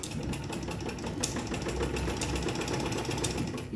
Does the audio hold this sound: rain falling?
no